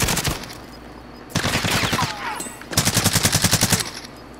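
Video game gunfire, with rapid automatic bursts crackling close and loud, a short pause, then a longer rhythmic rattling volley.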